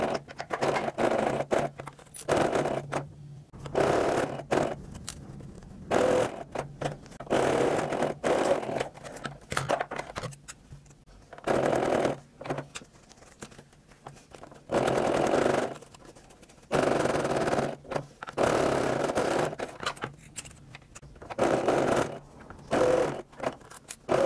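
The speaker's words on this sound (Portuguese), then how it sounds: "Passar uma costura em toda essa parte, desvirar e rebater essa costura." A sewing machine stitches a seam along the lining of a women's wallet purse with removable strap, running in repeated bursts of fast rhythmic whirring separated by short pauses, close and clear with no talk.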